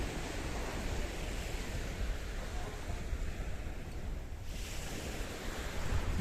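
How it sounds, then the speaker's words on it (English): Mediterranean Sea surf washing onto a sandy beach along the Kato Paphos coastline in Cyprus, a steady broadband rush of waves mixed with wind buffeting the microphone, continuous and fairly loud with no speech. "the blue Mediterranean Sea that's licking and lapping the coastline of downtown Kato Paphos"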